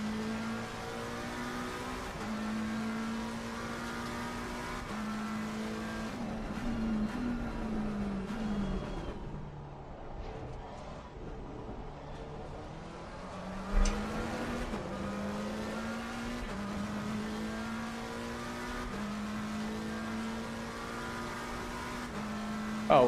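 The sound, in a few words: race car engine during a lap in Assetto Corsa Competizione video game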